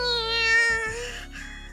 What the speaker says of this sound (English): Dangled by the nape of her neck like a kitten, Machina lets out a feline cry.